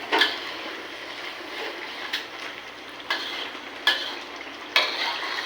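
Whole spices (cardamom, bay leaves, black pepper, cloves) fry in oil in a wok with a steady close sizzle, punctuated by several sharp scrapes and clinks as they are stirred.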